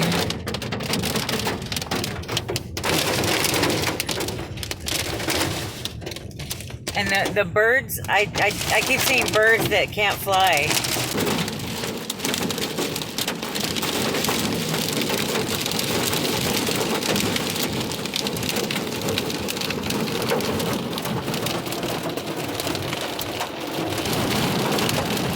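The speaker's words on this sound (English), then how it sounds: "Look at this, it's hailing." Hail patters and rattles densely on surfaces in a steady downpour, with a person speaking briefly over the storm.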